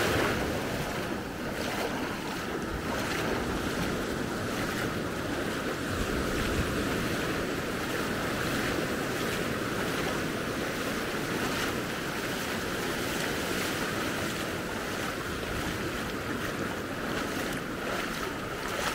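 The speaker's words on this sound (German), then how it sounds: "ich gehe mal ein bisschen weiter rein, denn das ist sehr gut gegen den Wasserwiderstand zu laufen" Ocean surf washing steadily at Maspalomas beach on Gran Canaria while someone wades in, a continuous broadband rush of water and wind with no talk.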